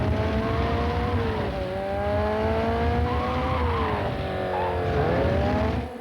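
A Nissan 240SX corners hard with its tires squealing loudly in long, wavering shrieks over a constant engine drone, the squeal pitch rising and falling through the turns for about six seconds.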